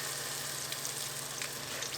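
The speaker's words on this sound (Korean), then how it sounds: "이렇게 작은 냄비에다가 돈가스도 튀겨주면 타지 않고 속까지 잘 익습니다." Eggplant pieces frying in hot oil in a small pot, a steady close crackling sizzle with fine popping bubbles running continuously and evenly throughout.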